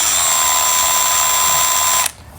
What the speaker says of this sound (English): That's low power for snugging bolts up and just turning them in before you try to tighten or torque them